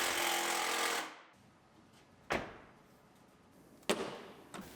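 An impact wrench driving bolts into the fender of a 2002 Pontiac Grand Am GT: a loud, rattling burst at the start, then two shorter sharp bursts separated by quiet gaps.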